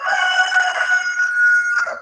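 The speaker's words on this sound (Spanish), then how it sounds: "Me llega ese gallo." A rooster crows once in a long, sustained call lasting about two seconds, loud and close, with no other sounds around it.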